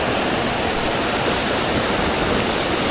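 Water rushing steadily out of a cave outlet below a big rock wall on a forest hiking trail, a loud continuous broadband roar like a small waterfall or stream, close by with no voices.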